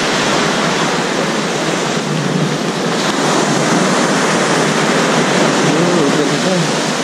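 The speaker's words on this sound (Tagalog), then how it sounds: "yung ampas ng dagat ng tubig" Sea waves wash continuously onto the shore at Krabi, Thailand, a loud, steady roar of surf close by, mixed with some wind buffeting the microphone.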